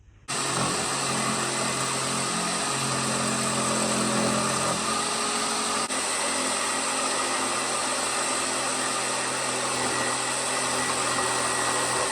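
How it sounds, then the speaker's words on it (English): An oscillating multi-tool sands old barn wood, giving a steady, loud buzzing drone with a rough abrasive hiss that runs unbroken for the whole stretch, with no voices over it. "I'm gonna hit it with sand real quick with my oscillating tool, just to get that Z shape out of there."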